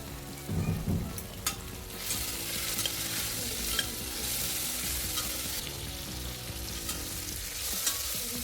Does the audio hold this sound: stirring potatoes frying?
yes